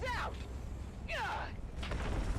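Grenades explode during a firefight in the desert sci-fi survival game Dune Awakening, a few muffled booms and sweeping effects heard faintly beneath shouting voices.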